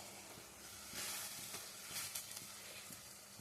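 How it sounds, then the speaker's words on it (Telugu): Masala for a brinjal curry fries over a medium flame with a soft, faint sizzle and low hiss, broken by a few light stirring knocks. "మసాలాని బాగా వేయించుకోవాలండి, మంటని మీడియం ఫ్లేమ్లో పెట్టుకోవాలి."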